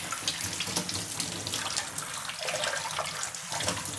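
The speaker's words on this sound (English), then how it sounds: "we're going to go ahead and drain it first, since we don't want the soaking water" Tap water runs steadily into a sink as soaked soybeans are drained and rinsed, producing a continuous splashing, hissing flow with small gurgles, close and fairly loud.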